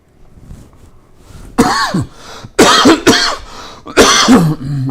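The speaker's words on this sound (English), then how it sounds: "I got this cough going this morning." A man coughs in several harsh, throaty bursts, close and loud, with throat clearing between them, in a rough series of three or four hacking fits.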